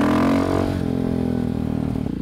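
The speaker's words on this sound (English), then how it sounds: "Get a little charge there as I rev it up." Motorcycle engine revved up close by and then dropping back toward a steady idle, a loud, rich throb settling into a pulsing rumble with no talking.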